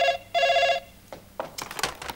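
A telephone bell rings in two loud, close bursts, followed by some brief knocks and handling noises.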